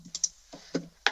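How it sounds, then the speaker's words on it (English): Someone typing on a computer keyboard used as a communication grid, a few sharp separate key clicks spaced irregularly in an otherwise quiet room, close and clear with no talking. "The grid is just a computer keyboard that allows him to quickly choose words"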